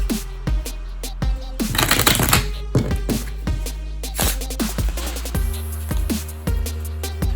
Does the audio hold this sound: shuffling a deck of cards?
yes